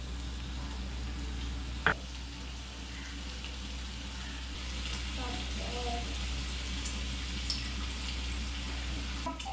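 Bacon sizzles and fries in oil in a pan, a steady soft crackling hiss that runs the whole time, with a sharp clack near the start and faint clatter later.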